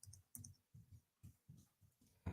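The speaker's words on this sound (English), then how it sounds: "typing away" Computer keyboard typing in a quiet room, soft clustered clicks in short bursts with small gaps between them, faint and close, with no talking.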